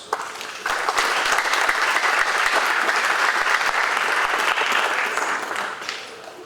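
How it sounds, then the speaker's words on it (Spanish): Strong audience applause at a workshop on a pension increase bill welcomes the vice minister of pensions and financial services. Dense, sustained clapping swells in after a quiet start and fades toward the end. "Lo vamos a recibir, por favor, con un fuerte aplauso"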